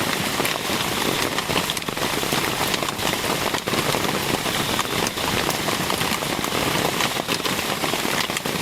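Heavy rain pours down steadily in a forest campsite, a dense, continuous hiss of drops drumming on surfaces, loud and unbroken throughout with no voices.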